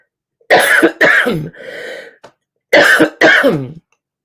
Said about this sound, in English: I'm going to cough right now